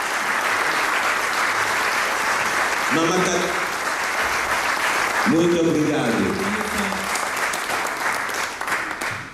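Sustained applause from a crowd at an Angolan independence anniversary church service in London, clapping for embassy staff, a continuous dense roar with brief spoken words cutting through twice.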